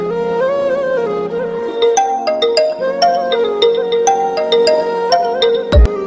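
Electronic phone ringtone repeating its melodic pattern for several seconds, left unanswered, clear and fairly close, with no talking over it.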